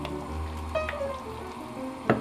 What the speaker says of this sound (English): just stir it a little bit.